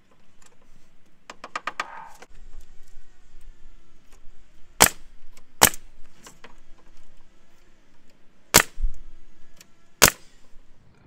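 A nail gun fires into mitered window trim, four sharp, loud cracks spaced a second or so apart, with lighter tapping and handling noise at the start.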